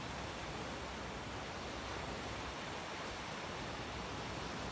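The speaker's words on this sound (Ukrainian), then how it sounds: "Трішки вам ось так шуму моря." Steady seaside surf at an Odesa beach in May, a constant broadband wash of breaking waves at moderate loudness, without any speech.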